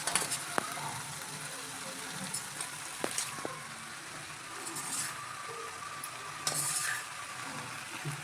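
Mango pieces stirred by hand with coarsely ground chili for a Kerala mango pickle, giving soft, quiet scraping and occasional clinks of a spoon against the vessel, with light background noise and no speech.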